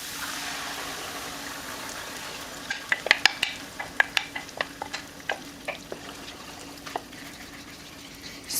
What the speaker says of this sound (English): So I'm just gonna stir this well, and I'm gonna cook this for about 4 to 5 minutes.